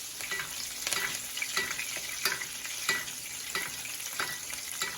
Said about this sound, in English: Once this butter is all melted, we're gonna start bathing this steak and building flavors.